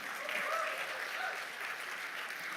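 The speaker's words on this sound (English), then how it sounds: "With a huge round of applause, please welcome Kamalakannan." Audience clapping to welcome a speaker at a tech conference talk on React development, a steady moderate round of applause with a few faint voices or whoops near the start.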